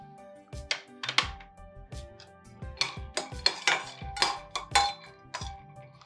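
Almonds being dry-roasted in a pan clatter and tick against the metal as they are tossed, with sharp irregular clinks and rattles, close and alone.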